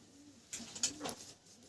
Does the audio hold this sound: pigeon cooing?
yes